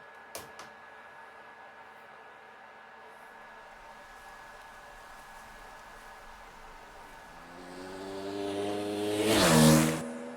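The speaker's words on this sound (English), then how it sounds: "we got somebody on a dirt bike out in the scorching desert" A dirt bike in a scorching desert, from Breaking Bad's Dead Freight episode: after a long near-silent stretch with a couple of faint clicks, an engine rises, revs and swells loud as it nears, peaking close at the end.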